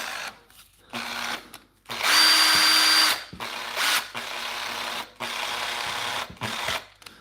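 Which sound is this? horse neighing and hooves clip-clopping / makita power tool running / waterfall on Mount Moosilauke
makita power tool running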